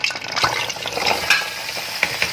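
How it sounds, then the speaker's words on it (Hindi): Cauliflower fries on high heat for aloo gobhi, with a loud, dense crackling sizzle broken by scraping stirs and a few sharp clicks throughout. No one speaks. "अब ये भी हम फ्राई कर लेंगे।"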